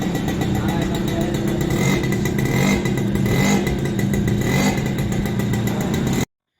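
A TVS XL Super moped engine, freshly serviced, runs steadily at a loud, close idle with a rattling, buzzy putter and slight surges in revs, then cuts off abruptly.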